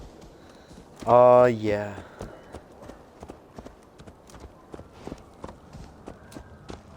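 Horse hooves clip-clop steadily in a video game, a light rhythmic trot heard near and fairly quiet, with a brief excited voice speaking over the start.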